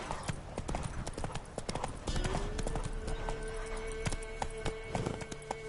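Hoofbeats of a horse galloping in a video game from the Witcher world, a fast steady clip-clop rhythm that sounds close and continues throughout, with a game tone rising partway through.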